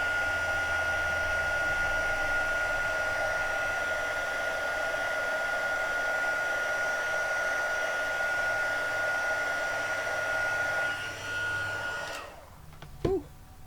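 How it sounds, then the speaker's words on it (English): A heat gun blows steadily for about eleven seconds while melting embossing powder for birthday crafting, a constant airy whir like a hair dryer, then cuts off, leaving a few faint knocks and handling noises. "when you heat it with the heat gun here"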